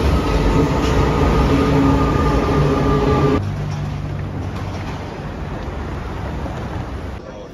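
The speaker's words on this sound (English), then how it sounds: "we're just about to get on the metro now and head down" A metro train in Rome, a loud close rumble with a whining tonal hum that cuts off abruptly partway through, leaving a lower steady rolling roar from the carriage.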